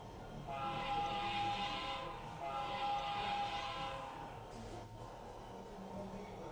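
Faint, steady rumbling and whirring of a Bachmann Bluetooth-controlled model train moving along track, with a soft whistle-like tone rising and falling twice.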